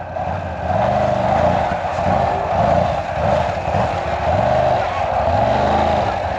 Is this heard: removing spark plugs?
no